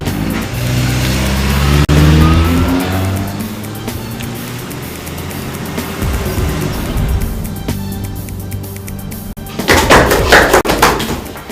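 In a Nigerian Nollywood film scene, a car engine rumbles and rises in pitch as the vehicle pulls away, loud and close, with thuds and a burst of clatter near the end.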